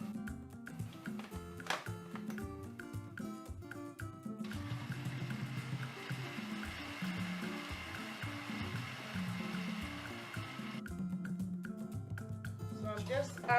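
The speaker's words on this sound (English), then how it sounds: "I'm going to blend this with a little bit of water" Blender whirring as it purees vegetables—tomato, pepper and onion—with a little water for yam pepper soup; a steady motor drone runs for several seconds between short bursts, with talk at the start and end.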